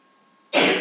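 A single sudden sneeze bursts out close and loud after a stretch of near silence, a broad noisy blast that holds for a moment and then begins to fade.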